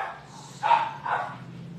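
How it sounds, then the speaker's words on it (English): Excited puppies barking indoors, two short high yips a moment apart, fairly soft and a little distant. "You guys hear the puppies? They're super excited because somebody opened the door."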